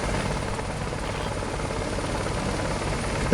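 Bell 430 helicopter in a flight simulator spinning its rotors up, a steady, dense whirring chop held at moderate volume without pause.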